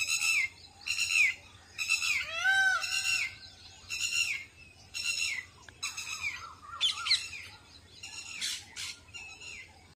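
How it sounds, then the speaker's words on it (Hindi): Peacock, papiha and koel call in a forest, sending a string of loud, shrill, repeated bird cries and whistles one after another over quiet woodland ambience. "मोर पपीया कोयल आवाज सुन सकते हैं आप।"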